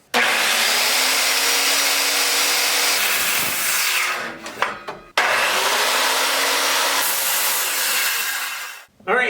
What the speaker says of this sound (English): So we're going to get the legs cut off now.